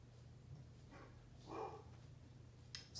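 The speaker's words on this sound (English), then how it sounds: "Sorry if you hear my dog barking." A single dog barks once, faint and some way off, over a low steady indoor hum, with a few small knocks near the end.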